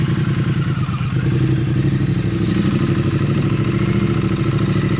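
Steady engine drone and wind from a Triumph Street Twin motorcycle being ridden on the way to work with a touring windscreen fitted, loud and continuous from the rider's position, no talk.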